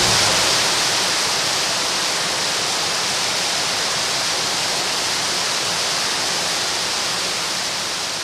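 A waterfall on Ulleungdo island roars in a loud, unbroken hiss of falling water, close and steady throughout with no voices.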